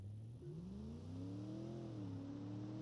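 A custom-built tow truck engine fitted with mufflers in BeamNG drives by, a smooth, fairly quiet hum whose pitch rises and settles as it revs, with no one talking.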